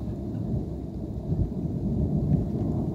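A deep, steady rumble of thunder rolls through an Arizona monsoon storm as rain begins, a loud continuous low roar with no speech.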